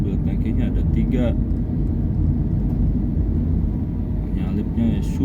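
A tanker truck carrying three tanks drives along a road in Cilimus, Cirebon, a steady loud traffic rumble throughout with someone talking over it.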